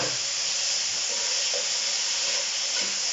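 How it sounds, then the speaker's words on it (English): Steam hisses steadily from a cooker of beef goulash as its lid comes off, a soft, even, continuous rush with a few faint clinks underneath. "Taking the lid off the cooker."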